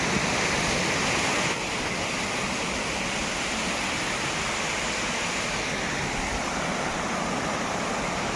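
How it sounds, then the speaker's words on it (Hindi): Waterfall near a temple in the jungle, a loud, dense, continuous rush of falling water filling the whole clip with no pauses and no voices. "यहाँ पर भी बहुत अच्छा झरना है"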